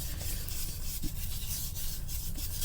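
Grain filler finish being rubbed by hand into the back plate of a handmade guitar: a steady, close, continuous scuffing rasp with no pauses and no talking.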